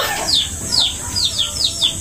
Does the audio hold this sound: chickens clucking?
yes